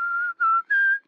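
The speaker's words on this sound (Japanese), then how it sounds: "これは口笛だよ" A cartoon father whistles a short three-note tune through rounded lips, with clear, close, pure tones and brief gaps between the notes.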